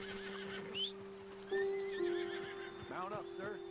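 In a video game a horse neighs loudly and hooves clop, set under game music and spoken dialogue.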